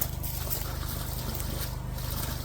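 Water flushing out of a well during well servicing: a steady gushing, trickling flow close by with a low mechanical hum underneath, continuous for the whole stretch.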